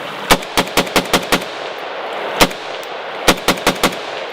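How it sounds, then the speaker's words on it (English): Live rifle rounds are fired into a hillside outdoors: sharp, loud cracks come in an uneven string, six in quick succession, one alone, then a final burst of four, with no voices between. "we're going to run a few rounds into the hillside right here. Got a live round. We're going hot."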